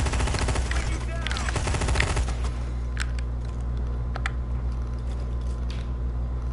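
Rapid automatic gunfire from a gun in the Hitman video game rattles in a dense burst, then gives way to scattered clicks and lighter in-game effects over a steady background hum.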